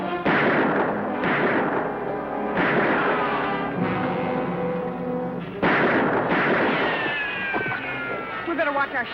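Shootout from a western TV show: a series of loud, close gunshots with sharp attacks and ringing decays, several shots spread across the clip amid dramatic music and action noise.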